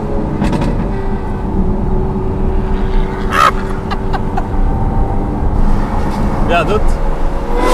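A Lamborghini SVJ fitted with a Secret Weapon exhaust drives past close by, its engine droning loudly on the road while people talk excitedly over it.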